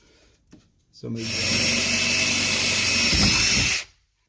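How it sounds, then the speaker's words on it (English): A power drill spins up and runs at a steady high whine for nearly three seconds, pre-drilling screw holes in a 2006 GMC Yukon Denali XL door panel, then stops abruptly; a light tap comes before it. "I'm just going to pre-drill them."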